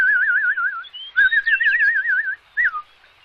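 A warbling, trilling whistle imitates the birdsong of forest birds in several wavering phrases with brief pauses between them, clear and close, with no talking.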